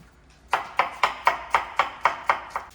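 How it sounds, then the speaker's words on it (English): Onions are diced with a knife on a board in a steady run of nine sharp chops at an even pace, close and clear, each with a short ringing decay and no talking. "Next we're going to dice our onions"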